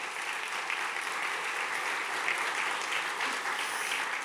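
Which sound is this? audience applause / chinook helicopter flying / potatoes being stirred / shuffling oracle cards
audience applause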